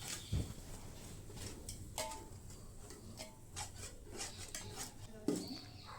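A spoon stirring a bottle gourd sweet mixture with a little kesari powder in a pan, heard as light, irregular scraping and tapping against the metal, faint and close, with occasional sharper clinks.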